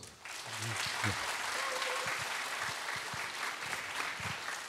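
Church audience applauding for a youth group, steady dense clapping that fills the room from start to finish, with a brief voice near the beginning.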